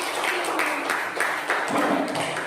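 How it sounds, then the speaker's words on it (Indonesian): Children in a classroom clapping together, a steady stream of close, crisp hand claps with rhythmic bursts lasting throughout. "Ayo tepuk tangan lagi"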